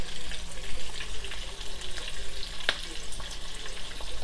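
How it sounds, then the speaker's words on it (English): Steady crackling sizzle of stuffed flying fish frying in hot oil, close and continuous, with a sharp pop near the end. "we're going to fry these. Just keep it on each side for about 2 minutes."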